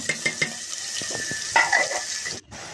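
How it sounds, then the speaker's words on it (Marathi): Mustard seeds, curry leaves and chopped onion frying in hot oil for dal tempering, a steady close sizzle broken by spoon stirs and scraping clinks against the pot, with a brief sharp cut near the end. "डाळीमध्ये तेल गरम झालं तेलामध्ये टाकली मी मोहरी कढीपत्ता कांदा"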